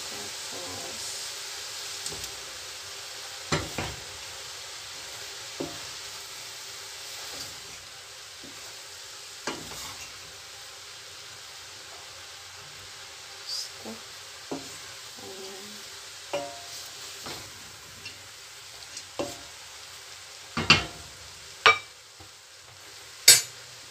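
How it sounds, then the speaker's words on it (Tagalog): Lumpia filling with spring onion stirred in a frying pan, giving a soft background sizzle broken by scattered scraping and clinking knocks of a utensil against the pan, growing sharper and more frequent toward the end. "Kailangan natin haluhaluin guys."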